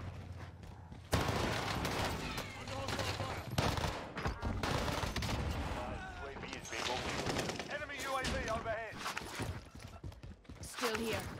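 Call of Duty Warzone (Vanguard era, Rebirth Island) match with repeated bursts of automatic gunfire and scattered shots under frequent player talk and in-game voice callouts, loud and fairly close throughout.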